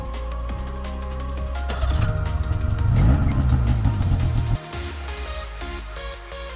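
A snowmobile engine runs loud and close, rising in a revving surge before dropping back to a steadier rumble, with no talking.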